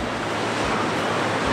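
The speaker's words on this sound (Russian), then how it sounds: "Вот там вот Индийский океан уже, а вот здесь вот еще Атлантический." Ocean surf at the southern tip of Africa, where the Indian and Atlantic oceans meet, roars in a steady dense wash mixed with wind buffeting the microphone, with no voices.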